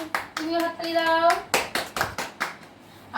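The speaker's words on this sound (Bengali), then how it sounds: "হাততালি দাও। তুমিও হাততালি দাও।" Hands clapping at a family prize-giving game at home, several quick bursts of close, sharp claps, with a voice and other voices chiming in between.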